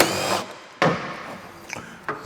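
A hand or power tool working a 10mm fastener loose on a car headlight assembly: short, close bursts of whirring and scraping separated by brief pauses.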